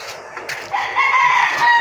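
Broiler chickens cluck nearby on a farm and a rooster crows, with several overlapping calls and no talking.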